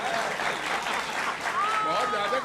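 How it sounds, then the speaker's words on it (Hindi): Sustained audience clapping at a political poetry recital, dense and steady throughout, with a voice carrying faintly over the applause. "थोड़ा तालियों से इनको बताइए"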